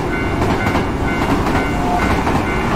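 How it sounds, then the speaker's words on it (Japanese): A train rumbles steadily past with a rhythmic clickety-clack of wheels on rails, loud and close, heard alone inside a horror video game. "この電車は死者たちを乗せて"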